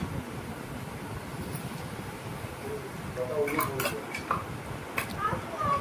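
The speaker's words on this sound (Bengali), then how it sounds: "দিয়ে আমি ভালো করে একটু নাড়াচাড়া করে নেব" A utensil scrapes and clinks against a pan while ginger, garlic and green chili paste is stirred into fried onions for doi katla, the metallic taps clustering toward the end over a soft, steady background hiss.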